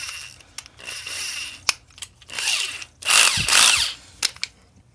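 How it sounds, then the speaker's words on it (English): A power drill with a step bit enlarges a hole to bolt size while a rear classic off-road bumper is fitted to a Jeep TJ. Close, loud whirring bursts start and stop several times, with short pauses and a longer, harsher run near the end. "we're going to take our step bit now and we're going to bring this up to our bolt size."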